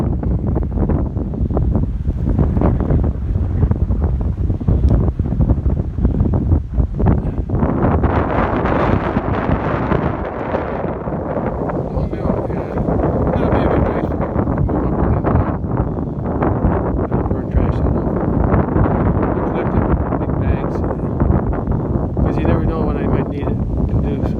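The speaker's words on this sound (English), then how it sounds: "But up here it's a lot stronger. The wind's coming from that direction." Strong wind blows across an outdoor orchard where trimmed pear and apple tree branches are piled for burning, a loud, continuous roar and microphone buffeting that lasts throughout, with someone speaking at times over it.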